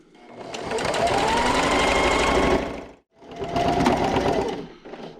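A sewing machine runs steadily while stitching the binding on a double-sided self-binding napkin. A long continuous burst stops briefly as the needle is left down and the fabric is pivoted, then a second steady run follows.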